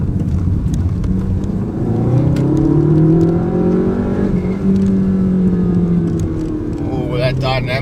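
An Audi A1 S-line's engine revs and pulls hard through a corner in dynamic mode, its note rising and falling in close, loud sweeps, with a voice talking over it.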